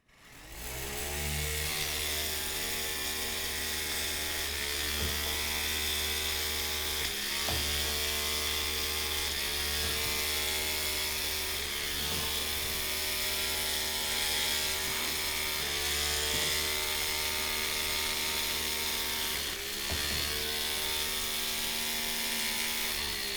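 FTC robot shooter prototype spinning through an ultraplanetary gearbox, a loud continuous motorized whir with heavy vibration, layered harmonic tones and periodic rattling pulses that repeat every few seconds, running steadily without speech.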